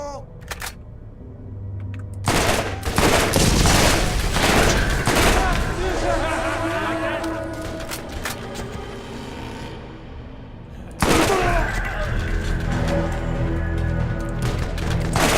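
Rapid bursts of automatic gunfire from a Tediore gun in the video game Borderlands, loud and close, with a pause in the middle before firing resumes; a voice speaks over parts of it.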